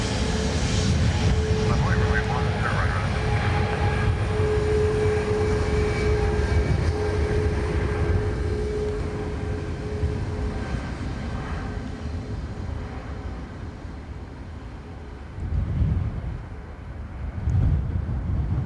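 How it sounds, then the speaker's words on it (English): Airbus A320 jet taking off from Dublin Airport bound for Heathrow on a windy day, giving a loud, continuous engine roar with wind buffeting the microphone, slowly easing in level with gusts near the end. "A320 off to Heathrow."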